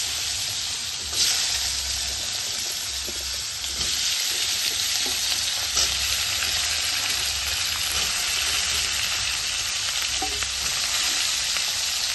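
Black cumin seeds temper in hot oil for a fish curry with radish and potato, giving a loud, dense, continuous sizzle that crackles evenly throughout and stands alone without talk.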